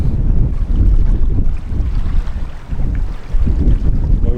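Strong wind at an estuary campsite roars across the microphone in heavy, continuous low buffeting gusts that dip briefly and surge back, loud and unbroken throughout.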